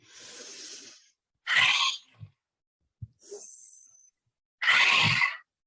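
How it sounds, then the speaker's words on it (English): Several forceful, breathy exhalations through an open mouth, separated by pauses, harsh and airy, close up. "we exhale through the mouth with the tongue extended as far out as possible"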